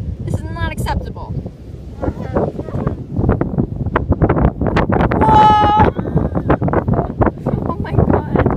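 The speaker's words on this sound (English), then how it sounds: "It is so windy out here." Strong wind buffets the microphone in a constant low rumble while someone talks loudly over it.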